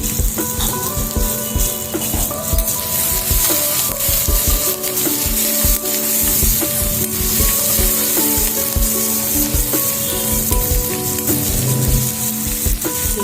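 Onions with salt, fried for a coconut chutney, sizzle loudly and steadily in a pan. A dense, continuous crackle runs throughout, with stirring mixed in.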